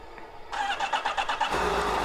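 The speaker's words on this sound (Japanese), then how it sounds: "じゃあエンジンスタート。" A Honda CBR1000RR-R motorcycle engine cranks with a rapid, pulsing starter chug for about a second, then catches and settles into a steady, close idle.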